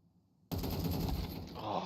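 A video game gunshot headshot fired through a wall, heard as a sudden loud burst after half a second of near silence, then a dense ringing rattle of continued gunfire that lasts to the end.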